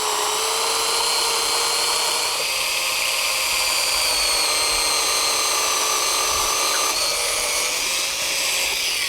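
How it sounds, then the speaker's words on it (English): A steady high-pitched whine of a power drill boring a hole at an angle into timber in a lawn runs continuously, loud and close, with no pauses. "We want to drill that hole at an angle underneath the lawn."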